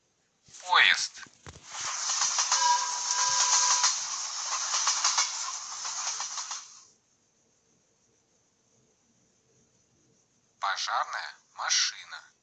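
A train roars past with a steady, loud hissing rush and a brief horn-like tone, between short spoken words before and after.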